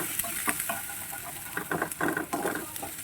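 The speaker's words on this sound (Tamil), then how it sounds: "இப்போ நல்லா இதை வதக்கி விட்டுட்டு" Egg masala gravy sautéing in a pan, with steady sizzling and a scattering of light spoon scrapes and taps as it is stirred, close and fairly loud.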